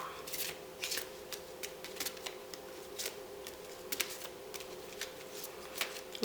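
A tarot deck is shuffled by hand, producing a quiet series of crisp, irregular card snaps and flicks over a faint steady hum, close but soft.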